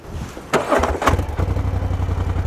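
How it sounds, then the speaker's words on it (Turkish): A 2020 Polaris Sportsman XP 1000 S ATV engine cranks and catches, then settles into a steady, close, throbbing idle. "Şimdi ATV'mizi bir çalıştıralım. Egzoz sesine bir bakalım Furkan."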